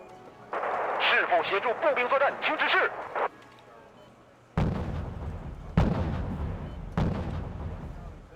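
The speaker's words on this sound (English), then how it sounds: "artillery." Artillery fire in the real-time strategy game Wargame: Red Dragon, a few heavy booming blasts spaced about a second apart, loud and close, following a stretch of talking.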